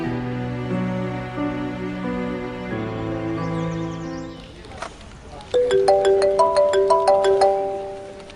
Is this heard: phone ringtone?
yes